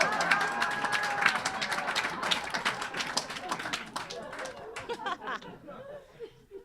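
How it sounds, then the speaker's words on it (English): Comedy show audience breaking into clapping and laughter, a dense crowd sound that stays loud for several seconds, then thins out into scattered claps and chuckles with a voice rising near the end. "Clap if you recognize me."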